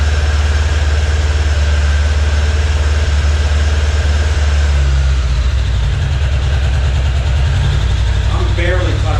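Honda GFS600 motorcycle engine running steadily with a low, loud rumble, its idle rising on its own toward the end, with a little extra rev near the finish.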